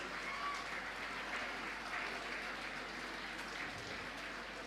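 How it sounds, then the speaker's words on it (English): Indoor audience applause at an academic motivational talk in Bengaluru, a steady dense clapping that stays fairly even throughout, heard slightly distant with faint voices mixed in. "A huge round of applause for Rambabu sir"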